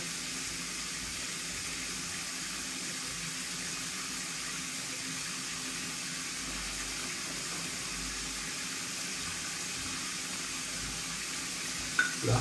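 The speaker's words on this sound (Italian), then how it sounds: "serve accendere la macchina del caffè." A coffee machine runs steadily while heating water, giving a continuous hissing, sizzling rush that ends in a brief louder knock, with no talk.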